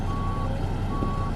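Reversing beeps from a truck backing up with a trailer, two steady tones sounding over a constant engine rumble, close by with no voices.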